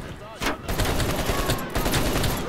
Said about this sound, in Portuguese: os tiros aqui praticamente todos acertam